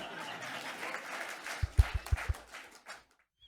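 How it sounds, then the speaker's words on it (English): An audience applauds in a steady wash of clapping for about three seconds, with a few louder thumping hits near the end before it fades to silence. "Glad we can hear you now clapping for us"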